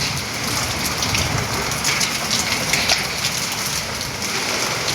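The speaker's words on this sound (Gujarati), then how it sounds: "અમારા ગામની અંદર વરસાદ હાલ વરસી રહ્યો છે" Heavy rain pours steadily and loudly with wind and rumbling thunder in Gundala village, Vichhiya taluka, Rajkot district, a dense continuous roar throughout.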